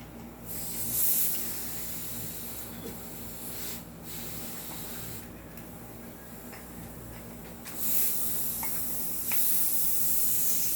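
Gas hisses steadily and loudly from a leaking M92 Beretta airsoft pistol, a continuous spray that swells slightly in places with a few faint ticks underneath.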